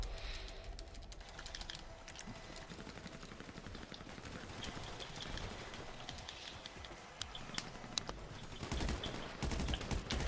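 Rifle and automatic gunfire in a crime-family video game, dense overlapping shots crackling steadily at moderate distance with a few sharper nearby bursts toward the end, no talk over it.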